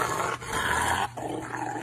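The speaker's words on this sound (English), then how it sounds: "Next one's a guy giving his Rottweiler a bath." A Rottweiler growls low and continuously while being given a bath, a close rumbling growl with brief breaks and no talk.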